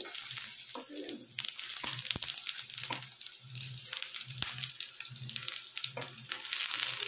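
Flipped potato and sago pakoras frying in hot oil, a continuous close sizzle with crackling and occasional clinks of a utensil against the pan, no talk.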